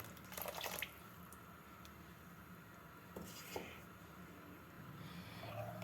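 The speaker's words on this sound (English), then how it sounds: "To this I am adding 1 cup of water and putting it into this." One cup of water splashes and trickles briefly into a pan on a low flame while making foxtail millet halwa, in two short bursts, close by, over a low background hum.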